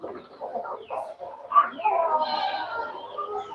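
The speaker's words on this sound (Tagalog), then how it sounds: "Yung manok natin nandito, mga native chicken natin." Native chickens on a farm cluck and murmur steadily in a continuous, fairly close chorus, with one sharper call rising partway through.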